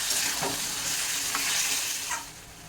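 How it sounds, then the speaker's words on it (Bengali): Marinated chicken pieces stirred and fried in a pan, a steady broadband sizzle with a few spoon scrapes spread through it, close and continuous with no talking. "এখন এই মাংসটাকে ভালো করে নেড়ে করে দিচ্ছি"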